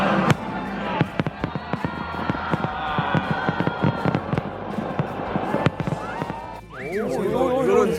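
Fireworks at a festival in North Korea crackle and pop in rapid, dense bursts over several seconds, with crowd noise underneath and voices heard near the end.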